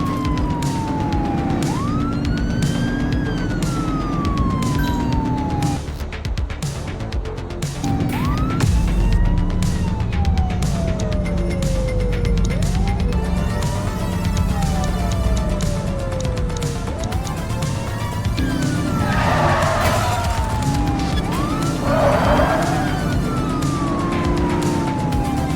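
Police car siren wailing continuously through a pursuit in the video game The Precinct, rising and falling sweeps over steady engine and traffic rumble, loud and close, with brief overlapping siren tones.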